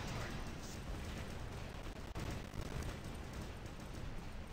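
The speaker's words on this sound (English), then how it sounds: "here we have the energy, the freezing energy plasma weapons" Freezing energy plasma weapons firing on a robot in a mobile video game, a dense, loud, continuous barrage of blasting noise that roars without pause from start to end.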